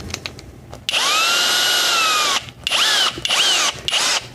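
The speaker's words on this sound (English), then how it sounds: "I'm drilling into wood" A power drill boring a small pilot hole into wood, a loud whining burst of about two seconds followed by several shorter rising and falling bursts as the bit spins up and eases off.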